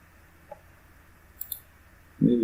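A computer mouse gives a few soft, sparse clicks, isolated and close, during a Shopify setup walkthrough, before a short burst of voice at the end.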